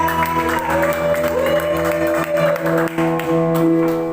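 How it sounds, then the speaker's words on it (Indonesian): Church congregation applauding during an evening prayer service, a dense, steady wash of clapping and cheering that runs under loud sustained worship music for the whole stretch. "Berikan tepuk tangan dulu buat kami."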